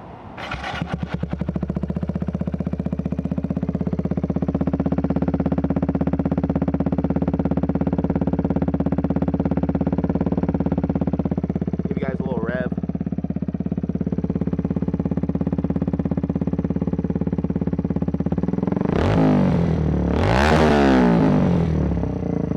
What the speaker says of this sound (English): this is a loud exhaust. It sounds super refined though. It's not like super raspy.